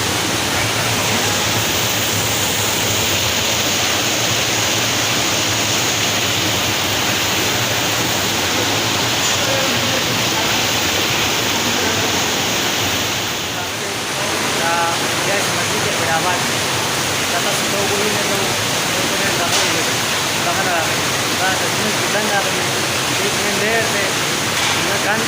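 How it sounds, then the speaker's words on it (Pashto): Natural spring water flows steadily at the historic Ilyasi Mosque in Abbottabad, Pakistan, a loud unbroken rushing wash with someone talking over it. "دا قدرتي را روانې دي دا اوبه"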